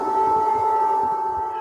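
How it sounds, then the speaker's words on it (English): An air raid warning siren wails over Kyiv, Ukraine, during an overnight barrage of drones and missiles: one sustained, steady tone held throughout, loud and continuous. "Warning sirens are sounding in the Ukrainian capital, Kyiv."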